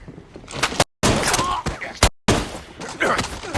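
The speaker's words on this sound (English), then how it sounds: "count the number of times Tyler shoots his Glock 17 without reloading" Glock 17 handgun shots in a scene from the action film Extraction crack out as sharp, loud bursts in quick succession, broken by brief silent cuts, with voices and other movie sound mixed in.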